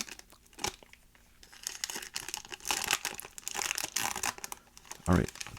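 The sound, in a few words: tearing open Pokemon card booster pack wrapper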